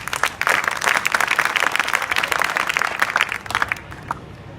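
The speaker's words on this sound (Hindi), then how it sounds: "ताली बजाओ विवेक यादव के लिए।" Dense applause from a crowd of students in a school hall, many hands clapping steadily and loudly before thinning out toward the end.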